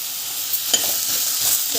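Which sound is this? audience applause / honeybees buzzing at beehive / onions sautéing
onions sautéing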